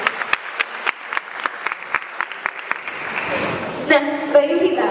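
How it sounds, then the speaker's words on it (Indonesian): An audience claps at a university talk show, starting as scattered individual claps and building into a denser round of applause, loud and close, with a voice speaking near the end. "Tepuk tangan dulu untuk Mbak Yuvita."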